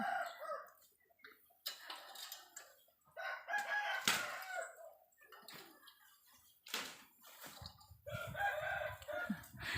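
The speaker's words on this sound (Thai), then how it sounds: "ไก่แก้วขันนะคะ ไก่ขันกลางวัน" A rooster crows several times in daylight, in clear separate calls that stand out over quiet outdoor background with occasional clucks and scattered clatter.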